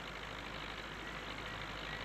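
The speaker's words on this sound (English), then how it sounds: "One thing you will note, the engine revs increase, which is good." In Farming Simulator 19, the engine of a Fortschritt E303 mower runs with a faint, steady mechanical hum that stays constant throughout, with no talk over it.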